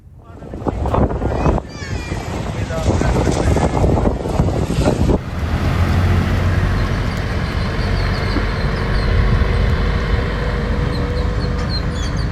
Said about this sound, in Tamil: கடற்கரை பகுதிகளில் கடல் சீற்றமாகவும் பலத்த காற்றுடன் 2 மாநிலங்களில் காலை முதல் மழை பெய்து வருகிறது